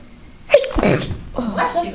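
A single sharp sneeze bursts out in a classroom, followed by a short stretch of voices.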